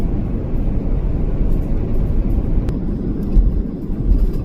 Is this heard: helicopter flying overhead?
yes